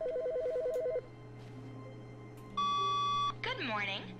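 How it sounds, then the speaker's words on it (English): A telephone rings in The Stanley Parable video game: a loud, steady electronic ring burst after softer beeping tones, with a rising melodic chime right after, over a faint background hum. "Okay, is that a phone ringing?"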